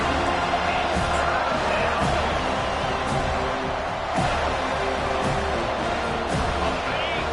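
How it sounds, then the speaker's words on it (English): Stadium crowd at a football game roaring on third down, a dense, sustained wall of cheering and noise that holds steady throughout, with a commentator talking over it. "Decibels rising as the crowd gets behind this defense on 3rd down"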